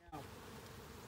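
Dense, steady buzzing of many bees around a full hive close by, continuous and fairly quiet, with no voices.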